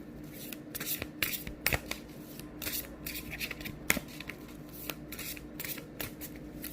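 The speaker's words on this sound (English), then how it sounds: "This deck is so big I have to shuffle it this way." A large tarot deck is shuffled by hand in quick bursts of riffling, papery card slaps, close and crisp, repeating in an uneven rhythm without any talking.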